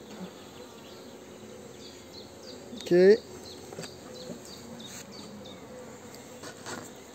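Faint, steady buzzing of many honeybees close by at a feeder in a small nucleus hive, with a short louder burst midway and a brief spoken word.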